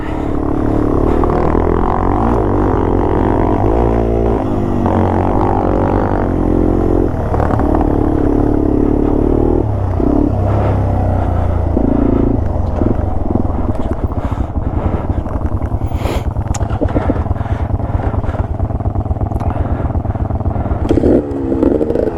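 A small two-stroke trail motorcycle revs and idles close by on a mountain trail in Colorado, its buzzing engine steady and loud throughout, with rising and falling throttle blips and faint talk mixed in.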